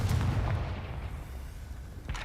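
Confringo blasting spell in Hogwarts Legacy, a heavy booming explosion at the start that rumbles and decays, followed by a second sharper burst near the end.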